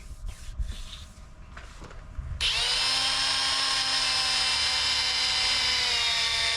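A drill-driven 3M Ultra kit sanding pad works 800 grit sandpaper over a 2012 Ram headlight lens, starting after some brief handling noise and settling into a loud, steady high whine that holds to the end.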